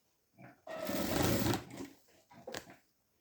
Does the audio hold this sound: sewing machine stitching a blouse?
yes